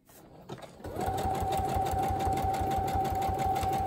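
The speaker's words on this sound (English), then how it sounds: "stitch around this so it looks better" A sewing machine stitches a craft bag, starting up after a short knock and then running in a steady, fast, even whir up close with no talking.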